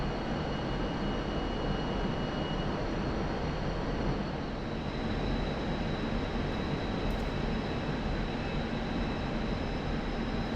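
MiG-29 Fulcrum jet engine in flight in DCS, a steady, dense roar with a faint high whine, unbroken and even throughout.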